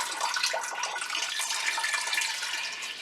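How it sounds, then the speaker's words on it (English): A gallon of store-bought milk pours into a heavy-bottom pot in a continuous, close splashing gurgle that stays steady throughout. "we are taking 1 gallon of milk and we are pouring that into a heavy bottom pot"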